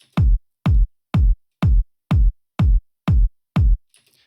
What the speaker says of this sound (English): we got our kick